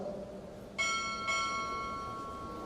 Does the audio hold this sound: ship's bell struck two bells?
yes